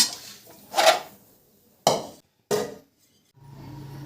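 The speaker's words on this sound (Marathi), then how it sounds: "दुसऱ्या गॅसवरती कढई ठेवते ही" A kadhai pan set down on a gas stove makes a few sharp metallic clanks and knocks, three distinct hits spaced about a second apart, close by and alone, followed by a low steady hum.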